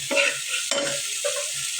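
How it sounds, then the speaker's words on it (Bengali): Broth water hits frying tomatoes in a pan, setting off loud sizzling that comes in three quick surges of hissing and stirring. "এখন ঝোলের পানি দিয়ে দেব"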